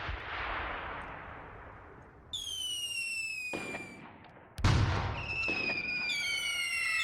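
Gunfire and explosions in the war game Graviteam: a couple of sharp distant blasts with rumbling tails, punctuated by whistling tones, no voices.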